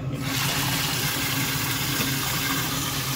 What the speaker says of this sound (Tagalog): Lagyan natin ng tubig yung eksaktong hanggang lumambot na